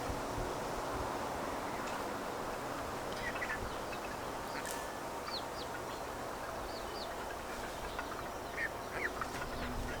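Ducks quacking around a farmyard where a mother duck sits with ducklings, scattered short calls at moderate distance over a steady outdoor background hum.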